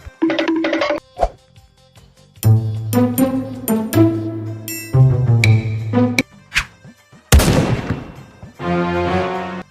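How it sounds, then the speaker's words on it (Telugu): Diwali firecrackers go off in a rapid string of sharp, loud bangs and crackles, some in quick bursts and one big blast near the end, close by with no talk. "రే కొద్దిగా సౌండ్ వచ్చే బాంబులు ఇవ్వు."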